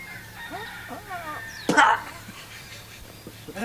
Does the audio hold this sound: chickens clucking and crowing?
yes